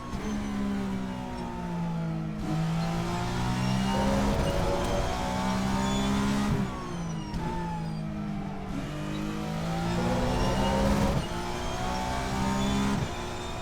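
A race car engine in the Assetto Corsa racing game roars through repeated upshifts and downshifts, revving hard and dropping between gears in a steady, loud cycle with no talk.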